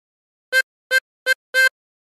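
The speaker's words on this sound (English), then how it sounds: "Blow into 13 four times." Four short blown notes on a tremolo harmonica, all on hole 13, come evenly spaced with the last held slightly longer, each reedy and wavering, close and alone in silence.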